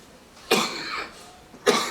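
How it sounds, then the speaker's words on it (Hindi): Two sharp, harsh coughs close by during a law lecture, about a second apart, each a quick rough burst of breath. "पानी लेते रहो सर, खांसी ठीक है"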